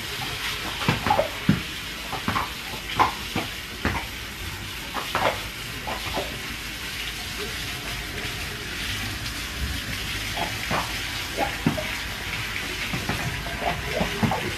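Water from a hose splashes and sprays over a horse in an uneven stream, with intermittent louder bursts of spattering against its body, close by and continuous.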